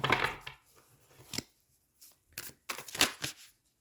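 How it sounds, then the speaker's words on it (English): Tarot cards being shuffled by hand, a few quick papery riffles and slaps in short bursts separated by brief pauses, close and crisp. "your cards are already flying out. I barely get shuffled"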